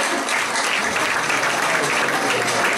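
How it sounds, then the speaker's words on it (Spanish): Audience applause at a televised gala honoring Mirtha Legrand, a dense, loud, steady wash of many hands clapping in a large hall, continuous and alone without talk. "pueden aplaudir si quieren."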